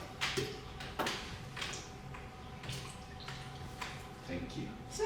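Whiskey poured into a glass during a tasting, soft liquid trickles and small drips at close range, with light clinks and people talking quietly nearby.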